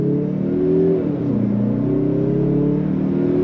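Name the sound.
2025 Mazda CX-30 Turbo accelerating from a dead stop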